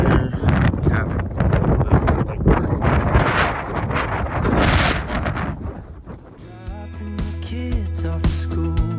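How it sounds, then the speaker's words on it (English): Heavy wind on a roofing job site buffets the microphone in loud, rumbling gusts that continue throughout, ending in a burst of rustling and clattering. "it is extremely windy"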